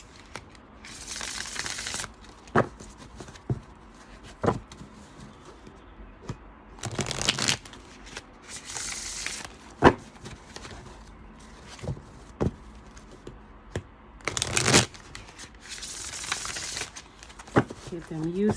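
Playing cards are shuffled in repeated bursts of riffling and crisp snapping, with scattered taps and handling noises in between, fairly close and moderately loud.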